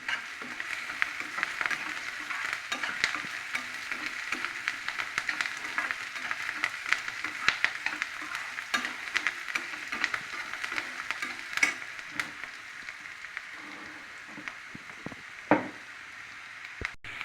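Onions sautéing in hot oil with cumin for a spinach stir-fry, a steady close sizzle running throughout, broken by occasional stirring scrapes and knocks, with no talking.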